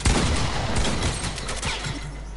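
Rapid bursts of video game gunfire crackle in a dense, loud fusillade, with overlapping shots in quick succession and no voices heard.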